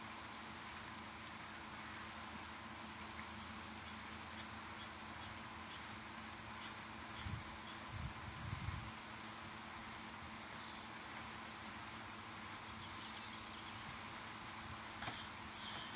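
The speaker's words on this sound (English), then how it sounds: "You can clearly see the rain when I have it over here. It is pouring now." Steady broadband rain hiss during a downpour, a continuous wash of pouring rain with a few low thumps around the middle, no voices.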